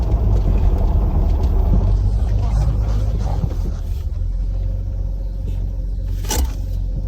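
A project car's engine idles with a steady low rumble, loud and close, running on throughout with a brief scrape or clunk near the end.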